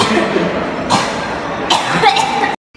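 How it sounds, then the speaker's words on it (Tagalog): Two harsh, close coughs from a person with a cold, separated by a short pause, loud and dry, followed by brief silence at the end. "may ubo po ako."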